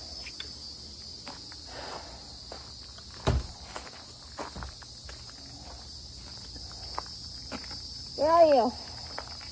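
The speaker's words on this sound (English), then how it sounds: "The cicadas are so loud tonight." Cicadas buzz loudly on a night outdoors in a constant high shrill drone. Footsteps and small knocks sound nearby, and a person speaks briefly near the end.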